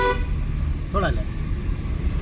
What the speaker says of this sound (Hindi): इस भैया को हॉर्न बजाओ